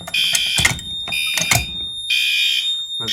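A Firelite ES-50X addressable fire alarm control panel sounds its alarm, a loud piercing tone pulsing in three bursts with brief gaps and some clatter between them.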